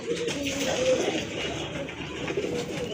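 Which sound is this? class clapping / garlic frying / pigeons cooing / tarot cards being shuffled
pigeons cooing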